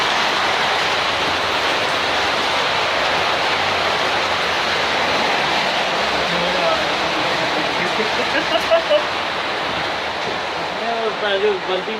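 Heavy rain pours in a steady, dense hiss at close range, loud and unbroken throughout, with a few faint knocks and voices near the end.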